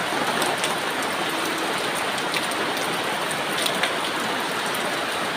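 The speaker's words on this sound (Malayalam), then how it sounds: "മഴ പെയ്യുമ്പോൾ നല്ല സുഖമാണ്." Steady rain pouring down close by, a dense even hiss of drops with a few louder splashes, no voices.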